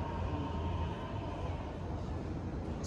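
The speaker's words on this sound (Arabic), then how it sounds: "ذاك المترو وراه" An Istanbul metro train passes with a steady, fairly faint rumbling roar and rail hum that stays even from start to finish.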